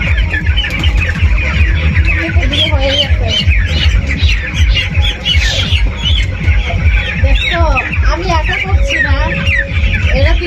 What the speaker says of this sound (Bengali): এই সবগুলো মুরগি একটা একটা করে ধরে ভ্যাকসিন করতে হবে